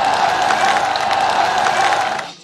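A crowd at an outdoor political rally applauds steadily, a dense wash of clapping that holds loud for about two seconds, then fades out.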